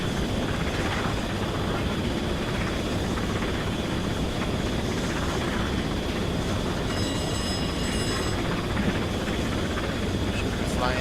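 Steady, loud rumble of a class 08 'Gronk' shunter locomotive running on the Great Western main line, heard from on board as a continuous engine and wheel drone with a brief high whine partway through.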